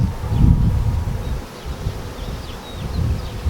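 Honey bees buzz around an open hive early in the season, a low, dense droning hum with some rustling, close and fairly loud, rising and easing slightly throughout.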